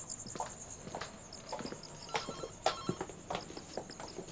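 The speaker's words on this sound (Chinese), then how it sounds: "好像咱们家电话" A home landline telephone rings faintly in another part of the house, a high repeating electronic trill over quiet room noise and scattered small knocks.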